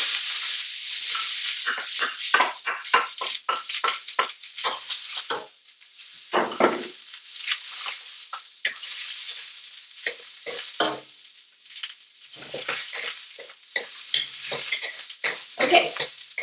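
Onions stir-fried in a wok for fried rice, a loud crackling sizzle broken by rapid scraping and clanking spatula strokes against the metal, close and continuous.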